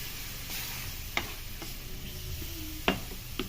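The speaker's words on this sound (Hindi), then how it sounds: "इसको आपने मुसलसल चम्मच चलाते रहना है" A spoon stirs a flour and milk paste in a pan, a continuous soft frying hiss broken by a few sharp scrapes and taps of the spoon against the pan, with no talk.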